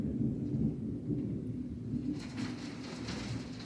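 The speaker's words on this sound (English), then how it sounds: "It's like pouring rain and thunder." Thunder rumbling low and heavy alongside a steady wash of pouring rain, with a brief hiss of heavier rainfall toward the end.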